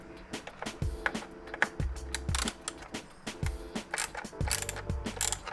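Torx T20 screws being backed out of a carbon fibre front center lower lip, giving repeated ratcheting clicks in short bursts, close and fairly quiet, with no talking.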